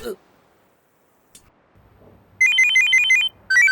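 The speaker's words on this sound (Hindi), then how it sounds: "ए फोन आया रे।" A phone ringtone sounds in a bright, repeating electronic trill, two bursts separated by a short pause, loud and close, preceded by a few faint knocks and rustles.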